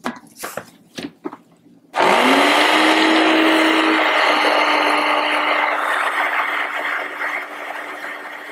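A blender whirs loudly and steadily as it blends green goddess avocado dressing with a little added water, starting abruptly after a few knocks and running on without pause.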